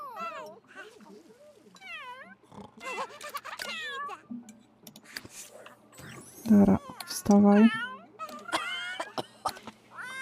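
Cats in The Sims 3 video game meow repeatedly in rising and falling cries, some loud and drawn out, while a person speaks briefly in between.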